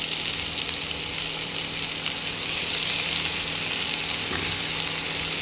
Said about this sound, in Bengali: গরম হয়ে গেছে, এখন পেঁয়াজ দিচ্ছি